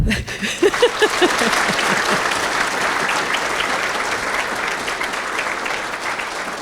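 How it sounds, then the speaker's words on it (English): An awards-dinner audience bursts into applause after a few scattered early claps, swelling into a dense, sustained round of clapping that continues evenly to the end. "Now you can clap"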